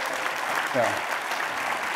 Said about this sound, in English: Let's give Joe and Paul a big round of applause